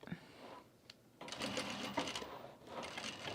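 A sewing machine stitches binding onto a bag, starting after a brief pause and then whirring steadily and close in a rapid, even rhythm, with no talking.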